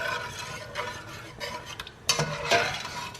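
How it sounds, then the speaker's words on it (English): Beef pieces stirred into a pan of coconut red chili sauce for khao soi, giving a few clattering utensil-on-pan scrapes and knocks with faint sizzling, louder near the end, no talking. "I'm now adding in the meat."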